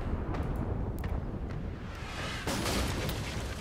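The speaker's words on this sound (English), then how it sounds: "Ooh, they're firing back." Ship cannons in Pillars of Eternity 2: Deadfire naval combat rumble as dense, continuous booming with several sharp reports, loud and close, building toward a heavier burst near the end.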